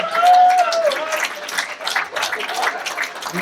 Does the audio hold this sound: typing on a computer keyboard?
no